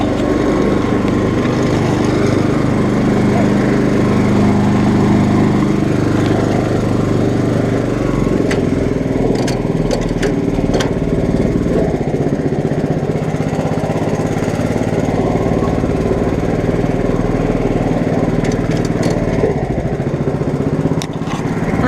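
A 1959 Case 700 tractor fitted with an 11 hp Honda engine runs steadily and loudly up close, its drone continuous throughout with a few sharp clicks and knocks partway through.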